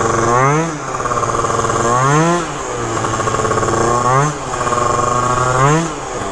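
Phantom F12 scooter with a Stage6 MK2 kit and Yasuni exhaust, engine revving close up in repeated rising surges between buzzy idle stretches, loud and raspy.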